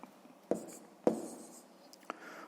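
A pen scratches numbers onto paper during a sixth-grade math exercise, making a few soft, separate strokes with quiet pauses between them.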